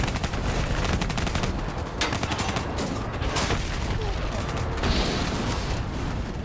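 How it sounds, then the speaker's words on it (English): Rapid automatic gunfire aimed at a VTOL aircraft in the shooter game Call of Duty Black Ops 3, loud sustained bursts with booming impacts and mechanical clatter, nearly continuous. "Focus your fire on the VTOL!"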